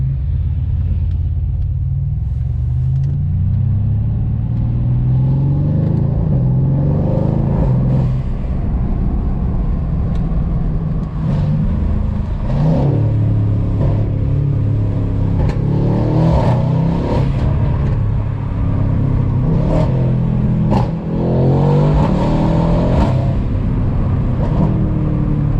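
Tuned Mercedes C63s AMG driving, a deep steady engine rumble from inside the car with several rising revs and shifts, loud and continuous throughout.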